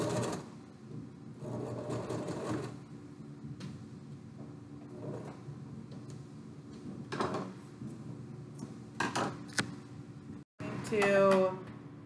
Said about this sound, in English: I'm going to back stitch one more time.